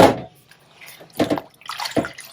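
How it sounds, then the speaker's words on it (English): Fabric soaked in avocado dye water is rinsed in two or three separate splashing, sloshing bursts with quiet gaps and faint drips between them. "I'm going to give this a little rinse through"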